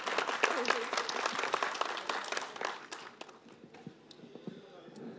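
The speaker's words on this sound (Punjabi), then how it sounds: "ਦਿਲਨੂਰ ਲਈ ਇੱਕ ਵਾਰ ਜ਼ੋਰਦਾਰ ਤਾੜੀਆਂ ਹੋ ਜਾਣ।" A studio audience breaks into strong applause, dense clapping that is loud at first and then thins and fades toward the end, with some voices underneath.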